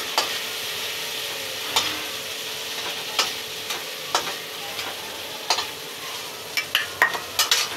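Shrimp frying in a pan makes a constant close crackling sizzle, punctuated by sharp metallic taps and scrapes from a spatula that come closer together toward the end.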